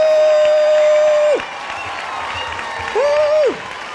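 An audience applauds and cheers for faculty and staff at a school ceremony, with steady dense clapping throughout and two long whooping shouts rising above it.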